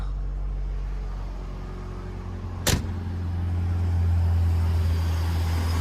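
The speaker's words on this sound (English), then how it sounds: "It's gonna idle a little weird because of the O2 sensor" A 1991 Ford Ranger with the 2.3 engine idles steadily and somewhat unevenly after starting, a low constant hum up close with a brief sharp click partway through.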